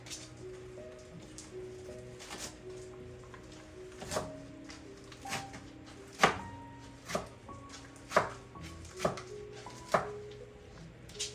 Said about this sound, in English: We're going to chop it first. The best way to chop spinach is to kind of gather it.